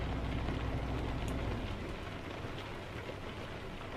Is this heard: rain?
yes